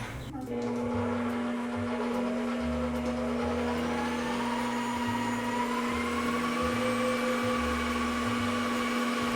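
An electric hand mixer whirs steadily on low speed, blending strawberry pie filling with vanilla and milk; the motor hum stays continuous and close throughout, with a faint rhythmic beater pulse underneath.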